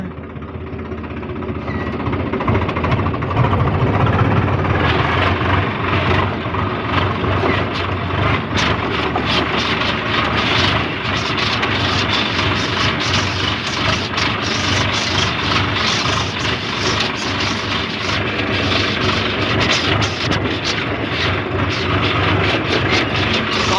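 A Swaraj tractor engine runs on a farm field, a loud steady diesel rumble that stays level and throbbing throughout with no break.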